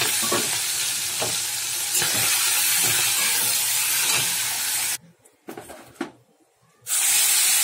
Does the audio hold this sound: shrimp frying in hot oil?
yes